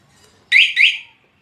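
A Yamaha R15 motorcycle's anti-theft alarm gives two loud, close, shrill warbling chirps in quick succession, then a short silence before another begins.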